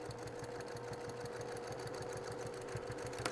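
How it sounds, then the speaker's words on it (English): A sewing machine runs steadily, lock stitching across a quilted bag handle with cream binding, its fast even needle rhythm humming close and continuous without talk. "I'm gonna lock stitch it. I'm gonna stitch across."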